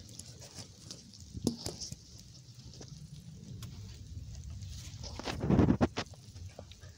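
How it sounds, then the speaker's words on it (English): Light rain beginning to fall outdoors, a faint steady patter spread across the background with a few louder knocks and thumps nearby. "it's starting to rain"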